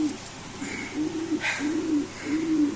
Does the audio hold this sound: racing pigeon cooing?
yes